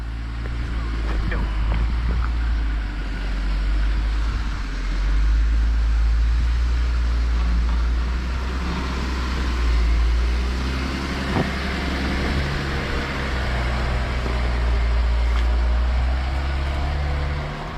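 A Jeep crawls slowly over a rocky off-road trail near Crown King, its engine holding a low, steady idle-like rumble with wind buffeting throughout and people talking over it.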